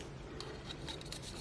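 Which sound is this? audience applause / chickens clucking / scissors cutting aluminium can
scissors cutting aluminium can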